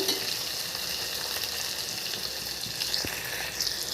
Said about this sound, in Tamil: கொஞ்சம் மிதமான தீயிலே வச்சு வேக விடுங்க இந்த கண்டங்கத்திரிக்காய் கொஞ்சம் வேகட்டும்